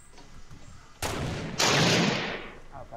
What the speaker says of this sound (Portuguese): O Chewbacca tá atirando lá.